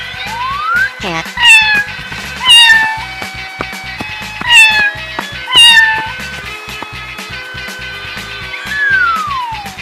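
Several drawn-out cat meows repeat every couple of seconds over light background music, loud and close, each rising and then falling in pitch.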